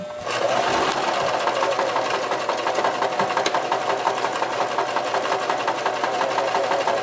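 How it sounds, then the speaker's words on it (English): A sewing machine stitches fabric with pins in it, running at a fast, steady mechanical whir with rapid needle ticks. It starts abruptly and stays loud and close throughout. "you can sew over the pins"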